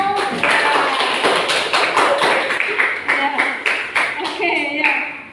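A classroom of students clapping, a loud burst of rapid, uneven hand claps that gradually thins out and slows toward the end, with some voices mixed in.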